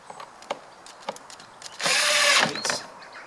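A power tool drives screws into a plastic airbox on an Up! GTI, a short buzzing whir of under a second that follows several light taps and clicks of handling, all close and fairly quiet.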